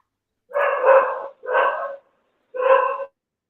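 A dog heard from a balcony at night gives three close, loud barks, the first longer and the next two shorter, with clear gaps between them and no talk.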